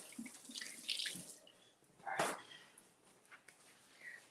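Tap water runs into a sink as hands are washed in a home kitchen during wing preparation, a steady soft splashing with a brief louder gush midway, close by and without talk.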